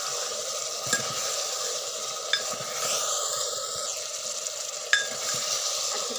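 Chicken frying in a pan with ginger, garlic and chili hisses in a steady close sizzle as it is stirred, with a few sharp clinks of a utensil against the pan.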